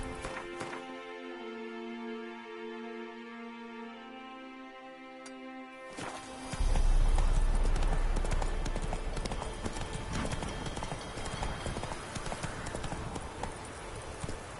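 Hooves of the horse Roach clip-clop in Witcher 3 Wild Hunt, starting after a musical passage and continuing as a steady, loud trot for several seconds over a background score.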